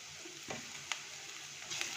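Chopped carrot, capsicum and red and yellow bell peppers sizzle in oil in a pan, a soft steady hiss broken by a few faint clicks from the utensil.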